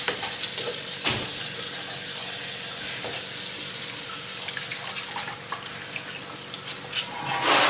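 Water runs steadily from a tap into a sink while raw beef is rinsed for pho, a continuous close splashing with a few clunks and a brief surge of water near the end.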